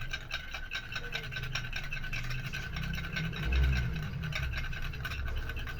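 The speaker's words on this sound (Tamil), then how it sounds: "இப்போ இந்த முட்டை கூட இந்த பொருள் கூட இந்த ஷாம்புவை சேர்த்து நல்லா மிக்ஸ் பண்ணிக்கணும்" Egg and egg shampoo are stirred together in a bowl, giving a continuous close rubbing and scraping swish with a faint whir in the background.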